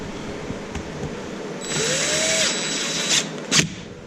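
A power tool whirs briefly while an aerator's bolts are worked on, a short rising high whine with a rattling burst and a sharp clack near the end, close and loud over a steady background hum.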